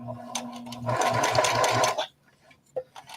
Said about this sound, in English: Let me stitch this from the other angle because I need to be able to see the smaller side